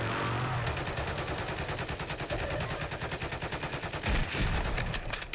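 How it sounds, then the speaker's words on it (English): Sustained rapid gunfire in the Call of Duty Warzone video game, with dense bursts of automatic shots cracking continuously for several seconds and a heavier blast near the end. "We're being shot at."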